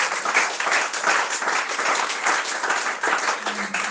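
A church congregation applauds and claps steadily for the Lord during a sermon on marriage, a dense, continuous wash of hands close by with a faint voice near the end.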